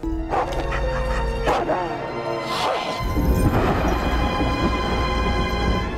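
Several dogs bark in sharp bursts with yips and whimpers, mixed with crashing noises and a busy, noisy scene that continues throughout.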